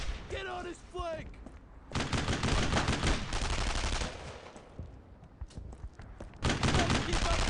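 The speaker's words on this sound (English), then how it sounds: "Keep shooting! No one stop firing!" Bursts of automatic and rifle gunfire in a World War II shooter, Brothers In Arms: Road to Hill 30, loud and dense in long volleys, with soldiers shouting over the fire.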